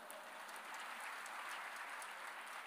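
A church congregation claps during a worship service. The applause is faint and distant, a soft continuous patter with no individual claps standing out.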